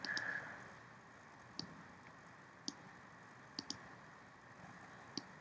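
A computer mouse clicks sharply about six times at irregular intervals while a vector shape is traced, each click faint and close over a quiet room hum.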